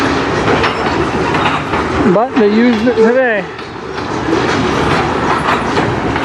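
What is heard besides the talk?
CN freight train passing on the rails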